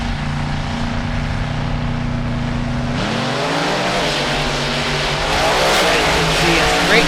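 Monster trucks Rammunition and Raminator drag racing at a 4-Wheel Jamboree in Lima, Ohio: loud, continuous engine roar that shifts pitch and surges louder as the trucks accelerate down the straight.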